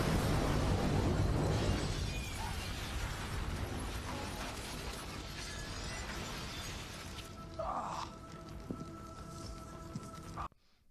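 Stock-footage movie explosion in a low-budget werewolf film: a loud, dense burst of roaring blast noise that fills the first seven seconds, then fades into a quieter rumble with a short tonal sting before cutting off.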